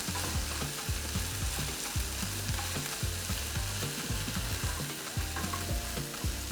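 Nigerian fried rice with spring onions stir-frying in a pan, a steady loud sizzle broken by repeated rhythmic scrapes and clanks of the spoon against the pot, with no voices.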